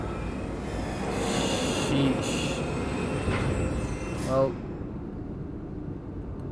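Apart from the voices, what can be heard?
rocket train passing in Wolfenstein II video game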